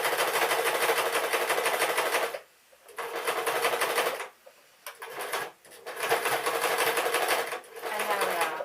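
A sewing machine stitches a seam on a pink dress, running in fast, even bursts of close mechanical whirring with a rapid needle rhythm, stopping briefly between runs before starting again.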